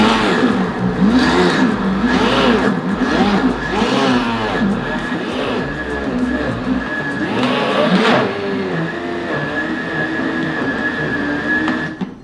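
Vitamix ONE blender blending a frozen ice cream mixture, a loud roaring motor with surging, wavering pitch as the load shifts, then easing into a steadier whine before cutting off near the end.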